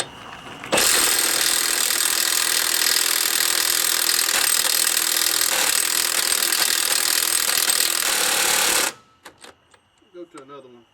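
A Milwaukee 2767 high-torque half-inch impact wrench rattles loudly and continuously for about eight seconds on rusted semi truck lug nuts, then stops abruptly. A few faint clinks follow.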